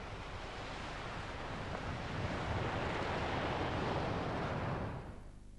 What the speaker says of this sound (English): flat beaches like this can absorb the energy of these steep surfing breakers